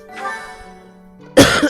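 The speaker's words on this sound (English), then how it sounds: "okay, I'm actually gonna cough" A single close, loud cough bursts out near the end, preceded by a quiet stretch with faint background game audio and a low steady hum.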